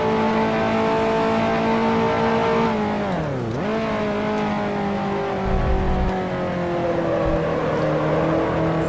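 A 1955 Formula One race car engine in Grand Prix Legends screams at high revs, with a sharp dip and recovery at a gear change, then pulls hard again through the rising note.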